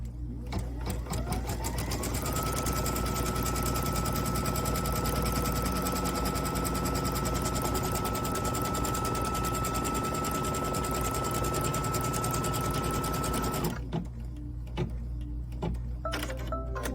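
An embroidery sewing machine stitches a crosshair on a Kimberbell Cup of Cheer project, a steady loud mechanical whir with rapid needle beats running for about thirteen seconds before stopping abruptly, leaving faint handling noise.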